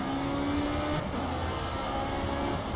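A race car in Project Cars accelerates hard through the Monaco circuit, its engine a loud, steady, close drone climbing in pitch as it pulls out of a chicane.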